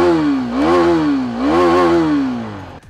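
Single-cylinder engine of a Husqvarna Svartpilen 250 motorcycle with a side-hung single-barrel exhaust, revved twice in rising and falling sweeps with a steady idle between, loud and close, no voices.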